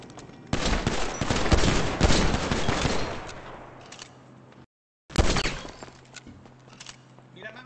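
A burst of video game gunfire in a jewellery robbery shootout, with warning shots ringing out in a dense, loud rattle for several seconds, a brief silent gap, then more sharp shots resuming close by.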